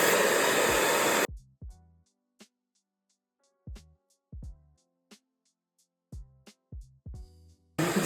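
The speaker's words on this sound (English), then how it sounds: "make sure you thoroughly blow dry the product in" A hair dryer blows steadily on hair during a face-framing blowdry, a loud broadband rush for about a second at the start and again briefly at the end, with sharp clicks and taps between.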